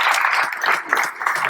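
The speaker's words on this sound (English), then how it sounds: "let's give this guy a big round of applause." Audience applause at an ambassadors' circle event for a recent high school graduate: dense, continuous clapping from a crowd, steady and fairly loud throughout the brief stretch.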